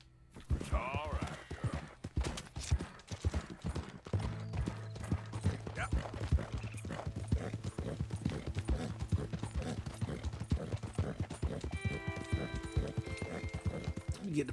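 Rapid hoofbeats clatter steadily as a horse gallops in the video game Red Dead Redemption 2, with faint mechanical clicks and tones layered over the rhythm, no voices.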